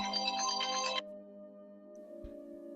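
A mobile phone ringtone for an incoming call trills loudly for about a second, then cuts off, leaving a low steady tone with no one speaking.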